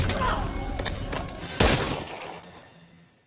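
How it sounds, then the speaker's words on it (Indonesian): Gunfire in a scene from the action film Seized: a loud sharp report near 1.6 seconds among several weaker cracks, over a noisy bed of action and possible voices. "kemudian menembak mati Omar"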